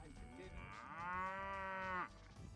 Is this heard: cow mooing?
yes